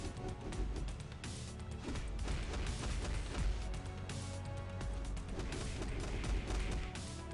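Chain Explosion Smash skill from the game Marvel Future Fight (MFF) sets off a dense, continuous barrage of overlapping booms and crashing blasts, loud and unbroken for several seconds with no talk.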